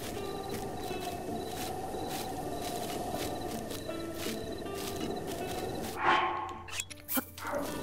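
A dog in The Legend of Zelda: Breath of the Wild barks a few times over a steady outdoor game ambience. The barks are moderately loud, and a sharper burst of activity comes near the end.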